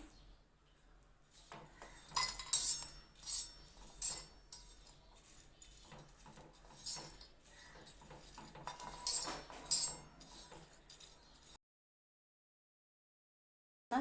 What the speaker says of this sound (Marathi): आता आपण ही एका भांड्यामध्ये काढून घ्यायची आहे